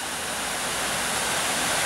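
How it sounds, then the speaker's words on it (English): Continuous broadband rush of a waterfall at the Tors in New Mills, a steady roaring wash of falling water filling the whole clip with no other sounds. "and then there's this incredible sort of waterfall"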